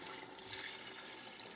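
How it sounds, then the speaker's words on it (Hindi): Water is poured from a jug into a pot of beef nihari, where the meat has been browned in ghee. It makes a soft, steady rushing splash that runs the whole time, faint and without talk. "अब हम इसके अंदर पानी ऐड कर लेंगे 1 जग।"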